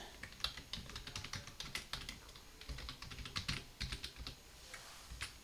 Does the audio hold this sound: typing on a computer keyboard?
yes